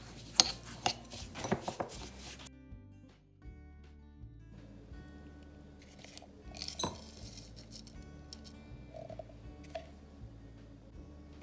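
Coconut, sugar and milk are mixed in a bowl, with bright clinks and scrapes of a utensil against the bowl, busy at first and then sparse, quiet and close.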